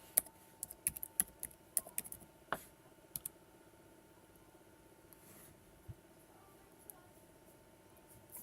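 Faint keyboard typing of a password, a cluster of quick clicks early on, then sparse single keystrokes spaced out over a quiet background.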